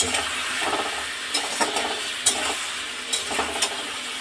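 Ginger-garlic paste with salt, turmeric and spices fries in a pan, a steady close sizzle broken by soft scraping stirs at irregular intervals.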